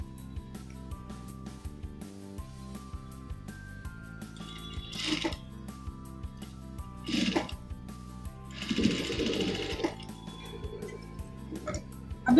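A sewing machine stitches the sides of a homemade cloth face mask with a rapid mechanical whirr and rattle, running in several loud bursts with pauses between them.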